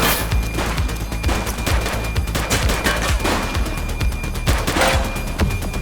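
Heavy gunfire from a suspect in the police game The Precinct, a dense fusillade of rapid shots and booming cracks that runs almost without pause and sounds loud and close, with no talk over it.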